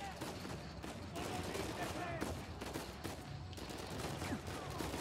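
Sustained gunfire in the video game Uncharted 4 rattles on without pause, dense overlapping shots at moderate loudness. A voice talks faintly under the barrage.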